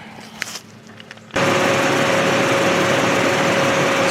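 A 2002 Mustang 3.8 V6 starts and settles into a steady, fairly loud idle while warming up after an oil change, an even drone with a faint whine, preceded by a second of quiet handling noises.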